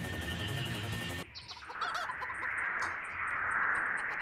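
Chicken clucking in short, scattered calls over a steady hiss of outdoor background noise, following a brief burst of louder sound at the start; no one speaks.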